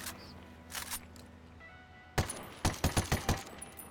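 Ghost Recon Wildlands AK-47 assault rifle first crackles faintly, then fires a loud close full-auto burst of about seven rapid sharp shots.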